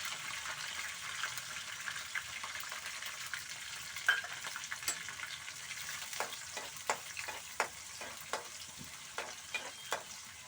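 Chopped ginger and green chilli frying in a pan with curry leaves, a steady soft sizzle with a series of short stirring scrapes and clicks in the second half, close and moderately faint, no talking.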